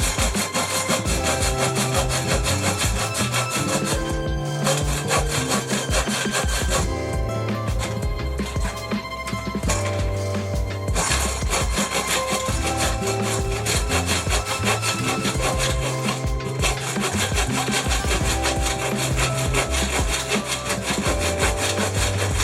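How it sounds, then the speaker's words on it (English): Hand saw cutting wood for a workbench, rhythmic back-and-forth rasping strokes, loud and close, repeating steadily for over twenty seconds with brief pauses between runs and no speech. "I am leaving a very rough cut in the wood here."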